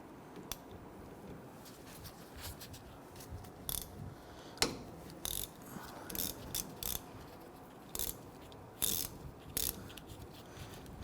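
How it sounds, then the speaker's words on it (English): A 14mm socket ratchet loosens the two brake caliper slider pin bolts on a 2005-2021 Nissan Frontier, giving faint, sporadic ratcheting clicks in short bursts over a quiet background. "We're going to use our 14mm socket to loosen these two slider pin bolts."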